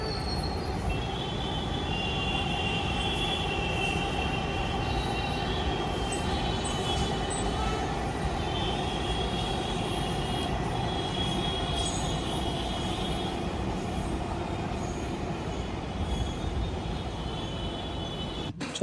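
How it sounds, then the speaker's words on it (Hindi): A metro train rumbles past steadily, wheels squealing and grinding on the rails in a long, continuous roar with no talking. "सबसे बढ़िया जो मुझे लगता है ना जब मेट्रो जाती है यहाँ से"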